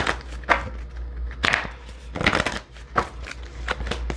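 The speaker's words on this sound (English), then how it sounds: "let's pull you a couple more cards here too" Tarot cards being shuffled and pulled from the deck, several quick riffling bursts separated by short pauses, close and clear.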